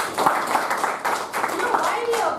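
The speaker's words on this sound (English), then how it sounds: "You know why we applaud every time in the Toastmaster?" At a Toastmasters meeting, the audience claps in a dense, steady patter that carries on for a couple of seconds. It sounds moderately close, with voices mixed in.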